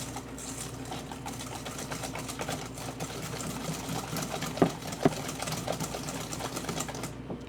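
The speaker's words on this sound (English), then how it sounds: "you want to whisk up your egg yolks with the starch and sugar" Electric mixer whisking egg yolks with starch and sugar, a continuous whirring motor drone with fine rattling from the beaters against the bowl, steady throughout with a couple of brief knocks.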